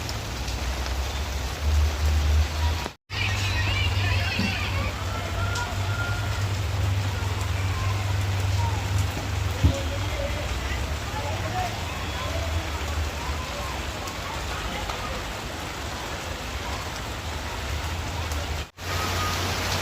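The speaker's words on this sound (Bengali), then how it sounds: "ভিডিও করতে এসে বন্ধুরা খুব জোরে বৃষ্টি এসে গেছে" Heavy rain pours steadily and loudly on a hilltop near a mosque and dargah on Wadala Road in Mumbai, a dense continuous wash broken only by two brief dropouts, with faint traffic beneath.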